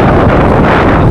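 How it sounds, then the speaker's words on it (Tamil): Strong wind on Kondarangi hill buffets the microphone with a loud, continuous low roar and rumble that fills the whole moment, with no voices. "காற்று கொஞ்சம் ஜாஸ்தி இருக்கு"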